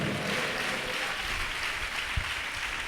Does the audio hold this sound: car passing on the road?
no